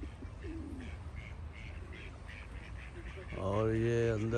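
In a Manchester park pond with pigeons nearby, a duck gives a loud nasal quack near the end after steady background murmur and ambient noise.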